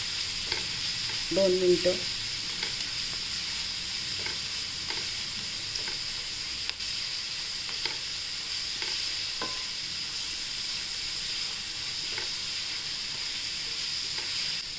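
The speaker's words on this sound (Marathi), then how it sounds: "आता आपण छान परतून घेऊया लसूण" Garlic sautéing in oil in a pan while tempering for a spicy buttermilk chapati dish, a faint steady sizzle with a brief louder stir near the start and occasional soft ticks, close but quiet throughout.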